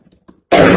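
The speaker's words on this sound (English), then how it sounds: "Now I'm gonna cough." A girl gives a single sharp, loud cough up close after a brief quiet moment.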